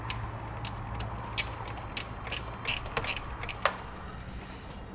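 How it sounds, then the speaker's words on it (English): A ratchet clicks in short irregular bursts while loosening the 10 mm factory ground nut on a 2015 Jeep Wrangler, close and fairly quiet over a low steady hum. "We're going to take this factory nut off where the ground is"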